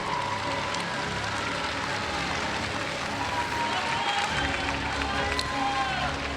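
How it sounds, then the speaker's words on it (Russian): Dense, sustained applause from a studio audience celebrating Russian figure skating champions after the national championship, a steady broadband clatter of many hands that stays loud and even throughout, with no voices on top. "давайте еще раз, еще более бурными аплодисментами"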